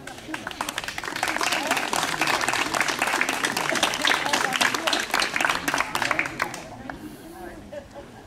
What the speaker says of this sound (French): certainement que ça mérite tous les applaudissements